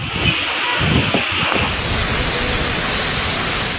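Strong wind from Typhoon Pepito roaring in a steady, dense wash with heavy rain pouring, loud and continuous, with a few low gusting thumps early on and no voices.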